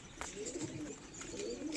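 Domestic pigeons kept at home for sale coo softly in soft, low, rolling calls that repeat through a faint, steady background.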